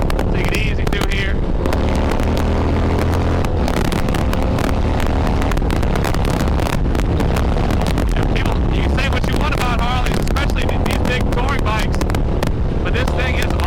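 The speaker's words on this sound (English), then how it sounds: "this big old Roadking gets down, buddy" A Harley-Davidson Road King motorcycle with a 107 engine rumbles along the road under heavy wind buffeting, while a rider talks over the steady engine noise throughout.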